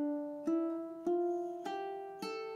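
A ukulele plays a scale in campanella style: five bright plucked notes, evenly spaced, each ringing on and overlapping the next, soft and close, with no talking.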